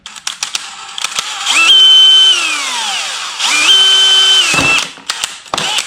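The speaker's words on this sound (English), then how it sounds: "I'm going to go ahead and start my holes with a regular drill bit." A power drill boring pilot holes with a regular bit whirs up twice in long high-pitched runs, pitch dipping as it bites, with clicks and handling knocks between bursts.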